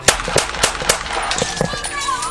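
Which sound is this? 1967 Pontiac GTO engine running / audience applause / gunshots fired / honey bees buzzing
gunshots fired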